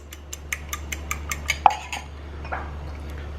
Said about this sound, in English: So we have 2 eggs. So let us whisk the eggs.